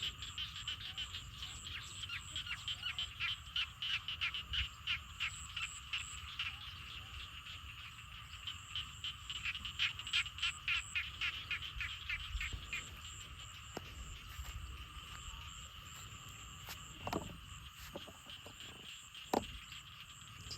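A loud chorus of frogs croaking in a rural Thai garden after rain, dense rapid pulsing calls overlapping continuously with a few sharper clicks and knocks, no talking.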